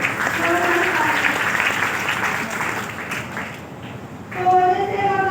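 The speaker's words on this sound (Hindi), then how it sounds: "जोरदार ताली मेरी मम्मी के लिए भी।" Loud applause from an audience at a talk, the clapping sustained and dense before dipping briefly and swelling again near the end, with some voices mixed in.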